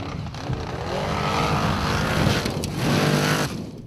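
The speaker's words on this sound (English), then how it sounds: "that's a noise you don't want to hear from your race car" An off-road race car at an Icelandic Formula Offroad event with a failing front differential, its engine roaring and surging loudly in two long pushes with grinding mechanical strain and no talk over it.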